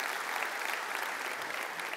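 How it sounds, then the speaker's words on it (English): Applause from a church congregation, a steady wash of many hands clapping together at moderate loudness throughout, with no talk over it. "I know all that applause is for Christy"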